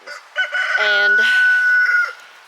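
A chicken calls loudly up close, a drawn-out squawking cry with a clucking start, over a faint thin tone.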